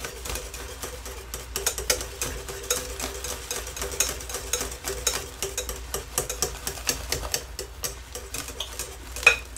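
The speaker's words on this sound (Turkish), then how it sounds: "Karıştırın." A spoon stirs a homemade natural liquid soap mixture in a pot, making quiet, irregular scraping clicks and taps against the sides, close and steady throughout.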